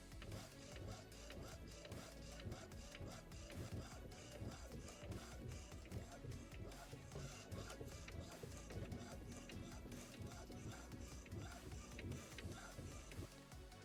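A modified printer prints a DTF transfer, with a steady dense mechanical whirr and rapid ticking from the carriage that runs loud and continuous throughout.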